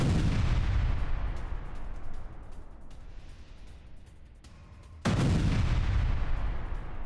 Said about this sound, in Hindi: यूक्रेनी एंटी टैंक माइन से विस्फोट किया गया है।